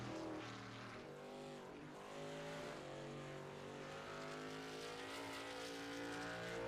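A number 9 race car heads out on its first qualifying lap at IRP, its engine a loud, steady drone with layered harmonic tones that rise and fall slightly, running continuously throughout.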